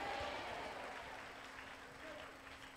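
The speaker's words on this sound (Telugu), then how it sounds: "అందరూ చేతులు పైకి గట్టిగా చప్పట్లు కొట్టి ప్రభువుకి ఘనత కలిగినట్టుగా గట్టిగా కేకలు వేసి చప్పట్లు కొట్టండి." A church congregation at a prayer and anointing worship service in Tadepalligudem claps loudly together, a dense, steady roar of hands with voices mixed in throughout.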